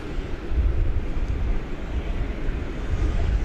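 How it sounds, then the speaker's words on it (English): A Frontier Airbus A320neo departing DFW for LAX makes a steady, moderately loud broadband roar dominated by a low rumble, with no clear rise or fall. "This one's off to LAX, an Airbus A320neo."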